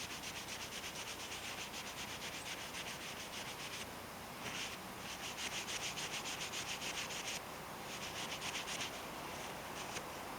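Linseed oil is rubbed by hand into a Micarta-wrapped knife handle, a soft, close, rhythmic brushing and rubbing that repeats in steady strokes with brief pauses and no voices.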